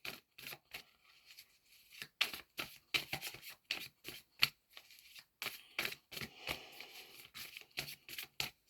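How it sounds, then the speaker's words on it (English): Tarot cards shuffled by hands in support gloves, a quick series of soft riffling bursts and slaps repeating in short irregular clusters, close and fairly quiet with no talking. "I can shuffle a lot more better with these gloves on"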